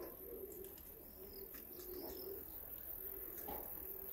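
Pigeons cooing softly in repeated low phrases outdoors, with faint chirps from swallows and other birds over steady background ambience, no talking.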